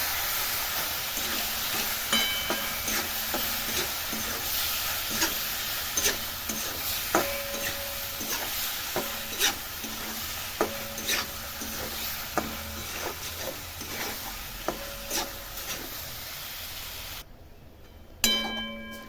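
Spicy pasta stirred and sizzling in a pan on a gas stove, a steady frying hiss under repeated scraping strokes of a spoon, with no talking.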